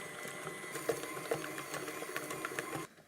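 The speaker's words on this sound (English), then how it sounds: "turn the mixer on a medium speed for about 15 minutes" An electric mixer whisks eggs at medium speed for a sponge, a steady close mechanical whir with light rattling clicks, which cuts off abruptly near the end.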